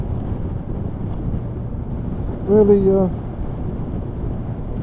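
Steady, heavy wind roar buffets the microphone throughout while riding a motorcycle, low and close, with a brief spoken word partway through.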